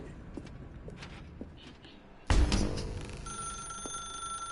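A telephone in The Stanley Parable video game rings sharply partway through, its tone carrying on loud and near over the game's ambience.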